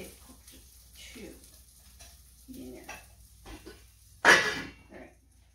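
Peppers and omelet vegetables frying in a pan, a low sizzle with scattered stirring scrapes and one loud burst of sizzle near the end, with a person's voice and throat noises around it.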